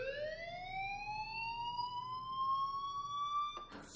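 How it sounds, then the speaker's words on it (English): Fire alarm in the game Life Is Strange, a continuous rising electronic wail that climbs slowly in pitch and holds steady, moderately loud, then cuts off abruptly near the end. "Hey, do you hear that fire alarm?"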